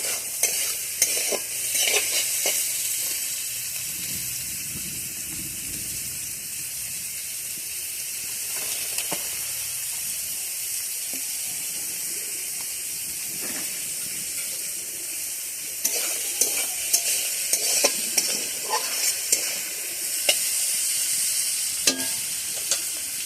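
Cabbage and carrot stir-fried with salt for egg chicken chow mein give a continuous hissing sizzle, with frequent scraping and clattering of the spatula against the pan.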